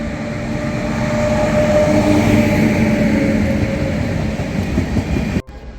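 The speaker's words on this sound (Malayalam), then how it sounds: "ഇതിപ്പോൾ വരുന്ന കൊല്ലം പാസഞ്ചർ ട്രെയിനാണ്" A Kollam passenger train rumbles past steadily, loud and close, with a broad roaring hum that holds for several seconds before cutting off abruptly near the end.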